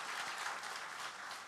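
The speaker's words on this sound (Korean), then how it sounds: "박수 한번 하십시다." A church congregation at a founding service applauds together, a brief, even burst of many hands clapping, somewhat distant and moderately quiet.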